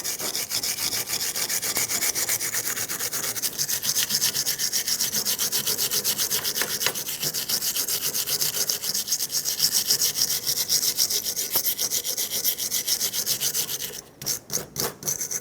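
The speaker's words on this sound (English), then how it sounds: "use a wire brush or a sanding disc" Steady, continuous abrasive scrubbing of metal on a 2000-2005 Ford Excursion's front brakes, like a wire brush or sanding disc grinding away, loud and close, ending in a few short rough strokes.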